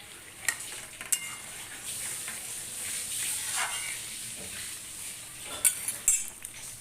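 Mango and dal fry together in a pan while a utensil stirs them, giving a soft steady sizzle with a few sharp metallic clinks of the spoon against the pan.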